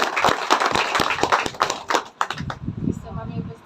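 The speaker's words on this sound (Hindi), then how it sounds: "पल्लवी मैम के लिए एक बार ताली" A gathering at a coaching centre awards ceremony claps for a speaker in a quick burst of crisp, fairly close claps that thin out after a couple of seconds, then a voice begins talking.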